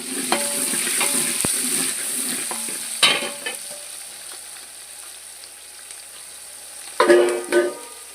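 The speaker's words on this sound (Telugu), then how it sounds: "ఆనియన్స్ వేసుకోవాలి" Onions frying in a pan for Telangana-style sambar, heard as a close sizzle with clattering stirring and scraping of a utensil in bursts, quieter in the middle, with no talking.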